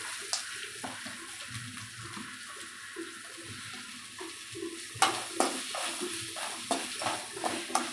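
Onions with mustard seeds and curry leaves are stirred in a pan for capsicum rice, with a steady broadband sizzle and scattered scraping taps of the spoon that grow more frequent and louder toward the end.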